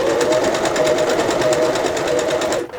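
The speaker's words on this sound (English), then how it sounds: "start stitching again here with a little back stitch and then continue stitching" A sewing machine runs a fast, even stitch through tote bag fabric while back stitching, a close steady mechanical whir that stops abruptly at the end.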